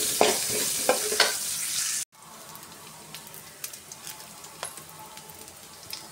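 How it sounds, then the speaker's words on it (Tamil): Chopped onion sautéing in a pan for a traditional Tamil curry, with a steady frying sizzle and a few stirring scrapes that drop to a quieter, crackling simmer after a short break. "வெங்காயத்தை சேர்த்து நல்லா வதக்கி விட்டுக்கணும்."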